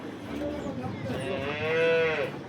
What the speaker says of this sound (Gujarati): આજે બીજી તારીખની લાલ ગાય દોવાની ચાલુ છે